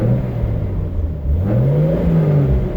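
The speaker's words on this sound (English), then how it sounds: "I've got the 3-inch Tanabe exhaust." Cabin view of an MK3 with a 2JZ-GTE VVTi swap and a 3-inch Tanabe stainless exhaust, giving a steady low engine drone heard from inside that rises slightly in pitch midway, with no talk.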